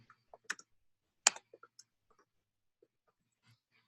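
Sparse, light clicks of typing on a computer keyboard, a handful of separate keystrokes spread unevenly through near-silence with no talking.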